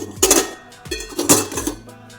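A wok and other dishes clatter at a kitchen sink, with several sharp metallic knocks and scrapes of pots, pans and cutlery in quick succession, close and fairly loud.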